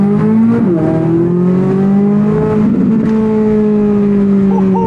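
A Chevrolet C8 Corvette Z06 engine holds a loud, steady high rev on launch control, its pitch dipping briefly then climbing and sustaining as a sharp, harmonic-rich roar with no talking.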